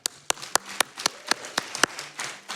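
Scattered hand claps, roughly ten sharp separate claps spread unevenly, like a small crowd clapping sparsely rather than full applause.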